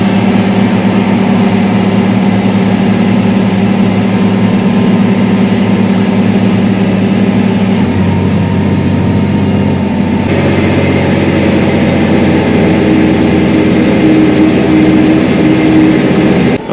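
A John Deere tractor engine idles loud and close, a steady rumbling drone that holds throughout with a slight shift in pitch partway through.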